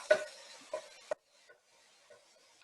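A spatula scrapes and breaks up ground beef in a large skillet: three short scraping strokes, near and fairly loud, then faint light clatter.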